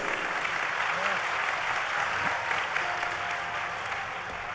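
An audience claps for a performer at a devotional festival, dense sustained applause from a crowd with a faint voice underneath.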